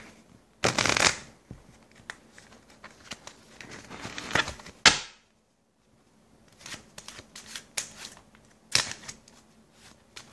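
A plain deck of playing cards is shuffled close up by hand in several bursts of riffling and sliding, with short pauses between them and one brief silence.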